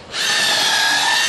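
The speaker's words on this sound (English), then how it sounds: "Now we're just gonna pre-drill them." Power drill pre-drilling wood while building an A-frame goat playhouse, a short, high, steady whirring bite into the timber, close and loud, with no talk.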